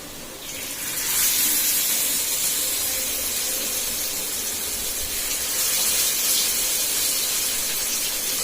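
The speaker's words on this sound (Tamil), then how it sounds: "அதுக்குள்ள நான் மீன் மீனை போட்டுடலாம் இங்க வறுக்க மீன் இருக்குல்ல" Fish pieces fry in a pan of hot oil with a continuous loud hiss and sizzle, close and steady after a quick rise, with no voices.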